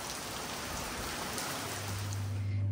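Steady rain in the Vidarbha region near Nagpur, a dense continuous hiss of drops falling on surfaces, close and even throughout with a low hum rising near the end.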